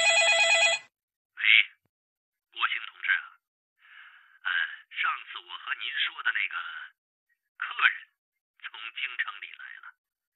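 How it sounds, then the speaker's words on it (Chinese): A telephone rings in one short electronic burst at the start of an audiobook scene, then stops as a narrator's voice continues in separate phrases. "下午，穆国兴接到了孙一行的电话。"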